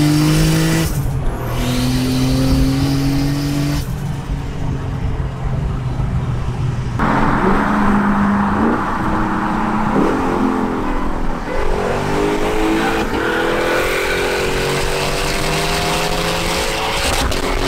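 A boosted Acura TL-S pulls hard up a freeway entrance ramp, its engine note climbing loud and close through several gear changes with brief dips between shifts, with no talking.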